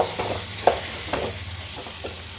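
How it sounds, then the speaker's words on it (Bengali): Cumin and coriander masala for egg curry, with oil already separating, being stirred and fried in a pan: a continuous close sizzle with intermittent scraping strokes of a spatula and one brief knock. "এবার মশলাটাকে ভালো করে কষিয়ে নেব"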